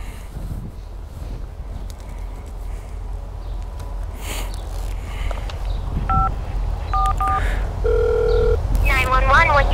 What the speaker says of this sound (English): call your local police department by dialing 911